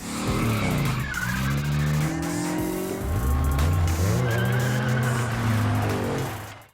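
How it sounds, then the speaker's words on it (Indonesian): Cars at an illegal street race in a film scene skid and squeal their tires loudly, with revving engines and long screeching slides sweeping up and down in pitch almost continuously. "Irfan dan Hamid pergi melihat balapan liar"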